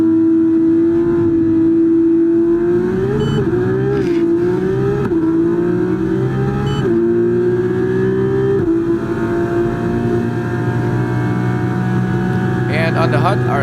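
Open-wheel F2 race car in the F1 24 game at the Las Vegas circuit, engine held loud and steady with rising pitch sweeps as it accelerates hard and shifts, continuous throughout under a talking voice.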